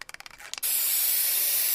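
An aerosol can rattles in a quick series of clicks, then releases a loud, continuous hiss of spray paint hitting a wall, close and steady to the end.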